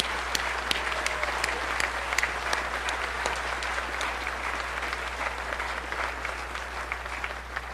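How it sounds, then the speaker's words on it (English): An audience gives a round of applause for the class of 2017 at a medical school grand opening, a busy, sustained patter of many hands with a few sharp individual claps standing out, over a low steady hum. "Raise your hands and let's have another round of applause."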